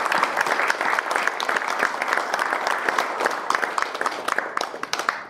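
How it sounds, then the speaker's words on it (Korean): Sustained audience applause fills a university alumni award ceremony hall, dense steady clapping from a large crowd lasting several seconds. "박수 한번 주시죠."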